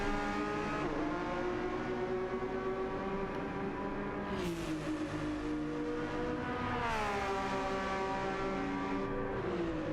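Racing cars at Interlagos in a video game, engines droning loudly and steadily with rising and falling pitch as they shift and corner, tyres struggling for grip, no voices.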